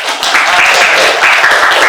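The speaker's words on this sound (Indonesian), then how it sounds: "Beri tepuk tangan dulu" Classroom audience applauding a student presenter during a teacher training session, a steady dense patter of clapping sustained for the whole stretch at moderate level.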